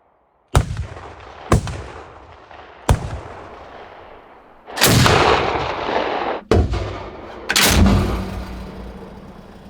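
A PBV 302 armoured personnel carrier's turret cannon firing six loud, booming shots at irregular intervals, each with a sharp blast and rumbling decay, some followed by longer roaring tails, no talk.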